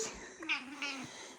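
A very old cat in a barn tack room gives two short, close meows in quick succession, moderately soft against a quiet room.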